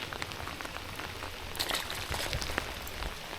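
Rain pattering steadily on grass and water during a July fishing outing, a soft continuous hiss with scattered close drops, no talking.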